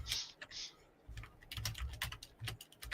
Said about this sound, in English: Now just listen to the clickety-clack of my keyboard.